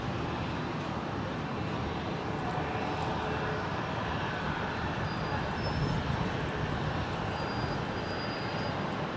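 An Embraer QantasLink airliner departs runway 19 right at Brisbane International Airport, its jet engines a broad, steady roar held at a constant level throughout, with no voices.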